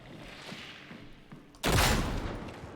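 A combat shotgun fires a single loud, close blast in Warhammer 40K Darktide, breaking sharply after a quieter stretch of game ambience and trailing off into a noisy decay.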